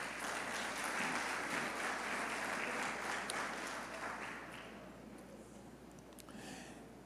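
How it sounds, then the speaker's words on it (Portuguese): Applause from a church audience for the women, a fairly faint, dense patter of clapping that tapers off gradually toward the end. "Dê um aplauso para as mulheres"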